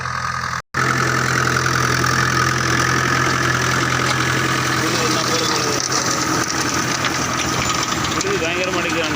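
A tractor pulling a rotavator works a farm field in second gear, its engine a loud, steady, throbbing drone close by, with one brief cutout near the start.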